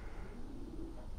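Racing pigeons from a club flock coo softly in a low, continuous murmur, a faint steady burble with no talking over it.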